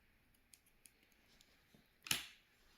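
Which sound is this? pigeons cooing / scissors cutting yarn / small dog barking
scissors cutting yarn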